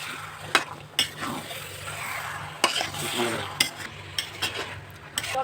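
A utensil stirs duck meat and vegetables in a pan, giving scraping clinks and knocks over a soft sizzle, with irregular bursts of stirring and no talking.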